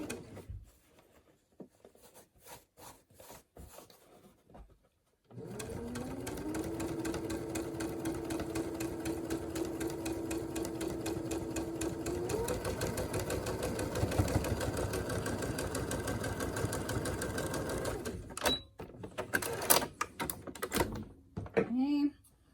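A sewing machine top stitching a fabric face mask runs in a steady mechanical whir for about thirteen seconds, slowing at one point, framed by handling clicks and rustles before and after.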